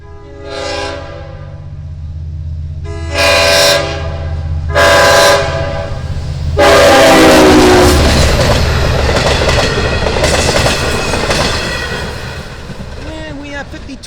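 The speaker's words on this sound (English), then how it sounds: "here he comes, train 662 from Hunters Point Avenue to Port Jefferson" A Long Island Rail Road evening commuter train, three cars, pulls into Greenlawn or Huntington station loudly with several long horn blasts, then rumbles and clatters past close by as the cars roll through.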